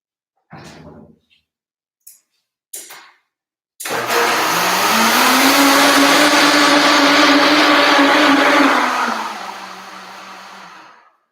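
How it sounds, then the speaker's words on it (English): A countertop blender whirs loudly for several seconds while blending a smoothie of greens and blueberries, its motor climbing in pitch then winding down, after a few brief knocks and clicks as it is set up. "I got to put this blender up."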